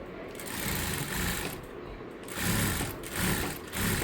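Sewing machine running in steady bursts as it stitches lining fabric around the edge of a frilled girl's frock, a continuous whirring hum that pauses briefly between runs.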